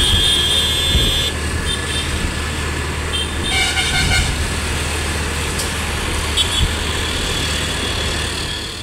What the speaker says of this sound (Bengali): একে তো পড়ছে বৃষ্টি, তার উপরে এত জ্যাম।